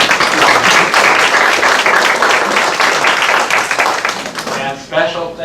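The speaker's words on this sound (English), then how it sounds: "Give yourselves a round of applause for being here." An audience at an evening murder-mystery event at a bourbon club bursts into loud, close applause that fills several seconds, thinning near the end as a voice starts talking over the last claps.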